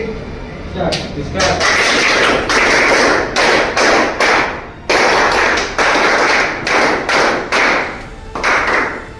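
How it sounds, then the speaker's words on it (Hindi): An audience claps in bursts for a successful entrepreneur at a gathering, loud and close, with pauses between rounds of applause. "तो इनके लिए पुनः आरसीटी की ताली बजाएंगे"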